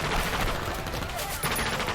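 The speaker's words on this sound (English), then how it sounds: "pulls out an Uzi and starts shooting at Loki with the gun" Rapid Uzi gunfire in a film action scene, a dense continuous fusillade of shots that fills the whole stretch loudly.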